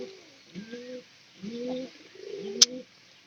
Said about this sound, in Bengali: ওই পায়রি দেহে এরকম করে ডাক